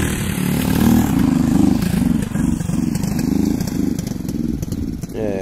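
A motorcycle engine runs steadily with rhythmic pulsing and clatter, fairly loud and close, with no talk over it.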